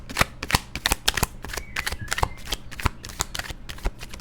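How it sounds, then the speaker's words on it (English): Tarot cards are shuffled by hand in a quick series of crisp riffling bursts and soft slaps, close and clear, with no talk over them. "I don't know why I shuffle this shit so much."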